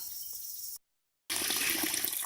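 Water gushes from a pipe in an open field at dusk, a loud, steady rush that cuts out for about half a second before surging back just as strongly.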